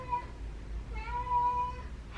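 A house cat meows twice, fairly close and clear, a short cry followed by a longer drawn-out one, in a quiet room.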